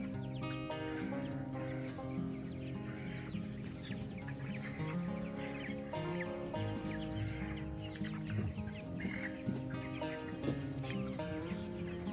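Many broiler chickens cluck and chatter together in a dense, steady flock sound, fairly quiet and continuous, with no talking.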